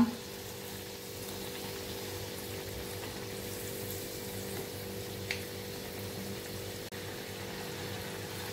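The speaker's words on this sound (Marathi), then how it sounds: "आता मी हे उरलेले वडे सुद्धा असे फ्राय करून घेते।" Vadas deep-frying in hot oil make a steady, continuous hiss and sizzle at low to moderate level. The frying runs without a break, with a faint tap or two and no talking.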